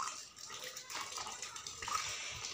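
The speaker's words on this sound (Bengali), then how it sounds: "ছোটো মা সব গাছেতে জল দিয়ে দিচ্ছে।" Water being poured onto garden plants, such as chilli and lemon seedlings, with fresh tap water: a continuous soft splashing and trickling, close by and fairly quiet, with no speech.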